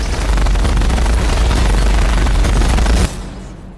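Dense, continuous rapid-fire bursts from War Machine's armored suit guns, loud and unbroken for about three seconds before cutting off abruptly into a fading tail.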